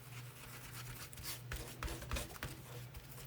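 Paint brush being scrubbed clean, a faint close rubbing and bristle scratching in uneven strokes over a low background hum.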